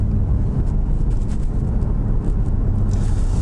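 A 2016 Genesis G330 gasoline sedan accelerates gently, heard from inside as a loud, steady low engine and road rumble with some wind noise, continuous throughout.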